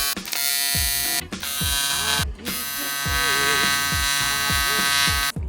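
Pulsed buzzing of a welder laying beads on fittings and a baffle on a reservoir, steady and close, broken by short pauses between welds.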